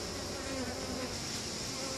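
Honeybees drone steadily around a hive taken from a bird house cut-out in a Riverview, Florida yard, a close, continuous buzz with no talking.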